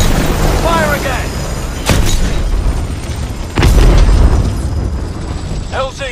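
Heavy cannon blasts boom twice over continuous battle noise in Call of Duty Advanced Warfare, loud and close, with game voices briefly heard.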